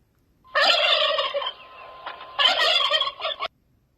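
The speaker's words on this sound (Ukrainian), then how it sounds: "Індик бельбоче." Two loud, rapid turkey gobbles close up, separated by a short pause.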